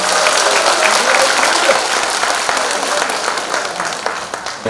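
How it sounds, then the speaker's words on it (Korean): Audience at a Korean Democratic Party presidential election rally applauds after a lawmaker's congratulatory speech, a dense, steady burst of many hands clapping that fills the whole stretch with some crowd noise mixed in. "우리 뜨거운 축사를 주신 김성환 의원님께 큰 박수 한번 부탁드리겠습니다"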